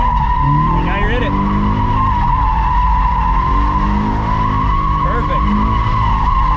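A modified Subaru FRS drifts after a small clutch kick. Its tires squeal and skid loudly and continuously over a steady engine drone, heard up close with voices talking over it.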